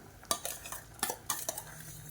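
Soaked, washed rice goes into a pot of boiling water for Tamil tomato rice, giving a few quiet metallic clinks and light scraping from utensils and the vessel, with no talking.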